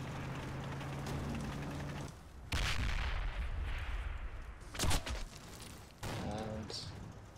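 Rapid machine-gun bursts and heavy explosive fire from a video game battle, loud rolling volleys with a sharp crack near the middle, while someone talks over the action.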